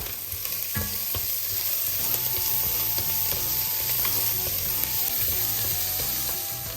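Onion, bell pepper and coriander stems fry in a pan, giving a steady, close sizzle with light scraping and clicking from stirring throughout, no voices.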